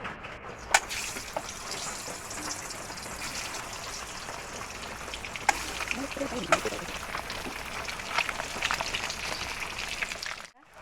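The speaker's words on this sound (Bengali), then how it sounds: "এবার আমি ডিমটা ভাজা চাপিয়ে দেবো" An egg fries in oil in a pan with a steady crackling sizzle close up, punctuated by a few sharp clinks, while someone talks over it.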